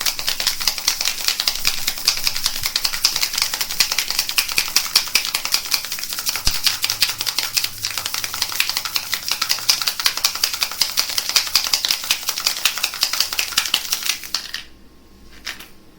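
Loud, continuous rattling of many small diamond painting drills shaken inside a container, a dense rapid clatter that stops abruptly near the end.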